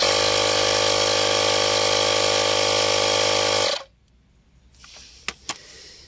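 An Einhell battery-operated tyre inflator runs with a loud, steady, buzzing motor drone close by, then cuts off abruptly into quiet broken by a few sharp clicks.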